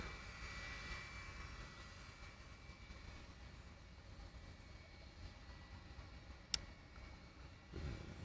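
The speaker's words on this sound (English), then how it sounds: "I think it's that 757 that just came in" At Honolulu airport, a Boeing 757 jet airliner gives a faint, steady distant roar throughout, with one sharp click near the end.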